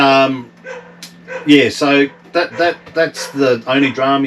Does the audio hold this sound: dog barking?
yes